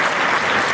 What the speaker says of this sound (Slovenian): En posebna aplavz še za njega